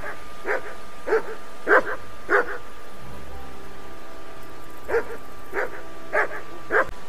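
A dog in the Kingdom Come Deliverance video game barks in two bursts of sharp, repeated woofs, four barks early and four more later, fairly close and loud over a steady low ambient hum.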